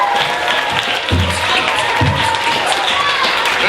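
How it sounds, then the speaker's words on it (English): Applause and cheering from an audience at a school poetry showcase for KS2 pupils, a steady broad wash of clapping with crowd noise throughout. "Give them a round of applause"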